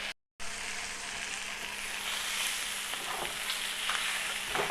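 Fish frying in a non-stick pan after being flipped, giving a close, steady, bright sizzle that cuts out briefly at the start and then hisses continuously at even loudness.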